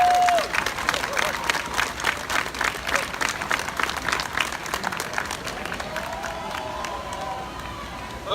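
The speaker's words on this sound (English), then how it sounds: "let's give everybody a big round of applause." Crowd applause mixed with cheering at an outdoor Six Flags Over Georgia 50th anniversary celebration, steady and fairly loud throughout, with a brief voice and faint tonal sounds near the start and end.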